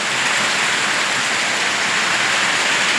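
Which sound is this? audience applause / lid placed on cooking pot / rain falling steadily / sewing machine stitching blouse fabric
rain falling steadily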